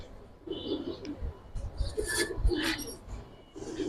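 Young Giribaz pigeons cooing nearby in a pigeon market in Old Dhaka, soft low murmuring coos repeating in short phrases with some faint rustling around them.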